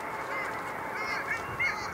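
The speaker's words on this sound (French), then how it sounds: "les canards de glace" Long-tailed ducks call in a steady, nasal, honking chorus, with overlapping voices at moderate distance and a few sharper calls standing out near the end.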